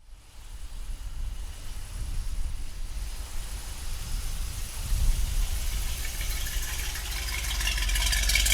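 A 1963 Chevrolet Corvette split window runs with a low, steady engine drone that swells gradually toward the end, heard from close by with no talking.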